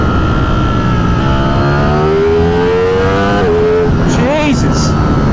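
A Brentuned Ducati Streetfighter V4S motorcycle revs hard at half throttle, its loud, close engine climbing steadily in pitch, then dipping and surging again, with a voice talking over it.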